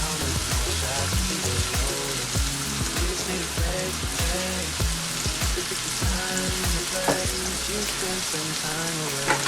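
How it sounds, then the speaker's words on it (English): Peppers and onions sauteing in a pot on the stove sizzle steadily and loudly throughout, with crackling pops and occasional stirring clatter at close range and no talk over it. "we have our peppers and onions sauteing in the pot"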